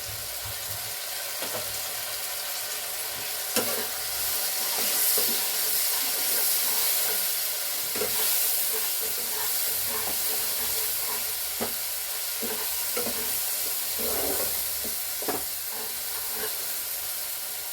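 Spice masala for cauliflower korma frying in a pan with a splash of water, a steady close hiss and sizzle broken by repeated scrapes and knocks of a stirring spoon.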